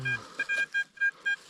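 A metal detector used in a search for Bronze Age finds gives a quick series of short, clear electronic beeps in an uneven rhythm, close and fairly loud, after a brief low sound at the start.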